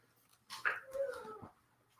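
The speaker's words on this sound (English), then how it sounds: "And I gotta let my dog out of the room." A dog, bummed at being shut in a room, whimpers with a high whine and lets out a short bark-like yelp, close and moderately loud over about a second in an otherwise quiet space.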